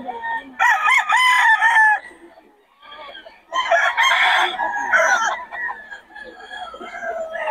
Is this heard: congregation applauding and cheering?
no